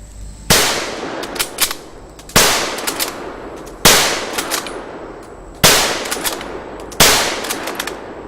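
Springfield bolt-action rifle fired quickly in succession: five loud, sharp gunshots spaced about 1.5 seconds apart, each with a ringing echoing tail and small clatters of the bolt between shots.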